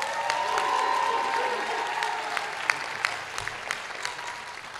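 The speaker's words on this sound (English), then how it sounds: "Can we give him a round of applause?" Crowd applause at the Bronx Community College commencement ceremony, sustained clapping from a large audience that slowly thins out, with scattered louder claps near the end.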